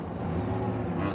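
An aging truck idling, with a steady low engine rumble and a faint high hiss throughout, close and continuous with no voices.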